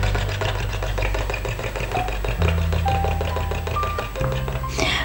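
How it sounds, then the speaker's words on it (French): A cartoon car engine from a Peppa Pig episode runs with a steady, loud mechanical chugging and shifting tones, continuous throughout and ending with a brighter burst. "Mais je pense, j'attends le bruit du moteur."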